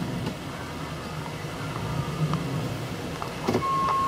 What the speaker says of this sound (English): Vehicle moves in forward.